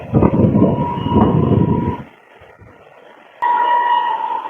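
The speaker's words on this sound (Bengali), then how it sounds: "আমি এখন ব্রিজে দাঁড়িয়ে আছি রেল ব্রিজে আর দিক থেকে একটা মালগাড়ি চলে আসছে" A freight train on a rail bridge gives a loud, close rumble with a steady tonal hum, drops away to quiet for about a second, then returns with a sharp onset and a strong hum.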